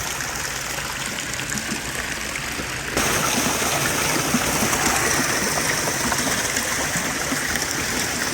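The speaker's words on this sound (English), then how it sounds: "here's the jets, and then your waterfall features" Home pool jets and waterfall features running, a steady rushing wash of falling and churning water heard up close, growing noticeably louder and fuller partway through as more flow kicks in.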